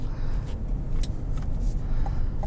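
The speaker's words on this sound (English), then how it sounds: "Has a good throaty sound to it. 10-speed, kicks down well." A 2021 Chevrolet Suburban RST with a 10-speed transmission, heard from inside while driving: a continuous, fairly loud low engine and road rumble with no voices.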